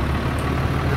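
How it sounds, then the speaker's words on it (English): A Panzer IV tank engine drones loud and close inside the hull in Steel Gear: Stalingrad, a steady low rumble as the driver shifts gears. "if you listen, you can hear the driver changing gears"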